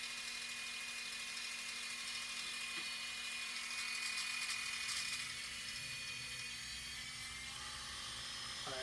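The motor of a Z8000M lathe runs with its belt at reduced tension, a faint, steady electric whine with a constant tone and a low mechanical hum, unbroken throughout.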